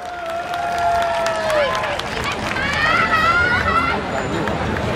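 A crowd at a Thai fresh-market pageant, with contestants in loincloth-fabric swimwear on stage, applauds and cheers steadily, with babble and whistles under an announcer's voice over the PA.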